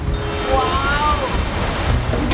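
Sea waves roll and wash continuously beside a large swimming pool, a broad windy surf rumble filling the background, with people talking over it.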